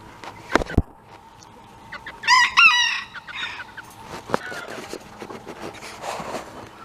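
Chickens and a rooster on a farm: scattered clucks and fowl calls, with one rooster crow rising in the middle, fairly close and moderately loud against a quiet yard.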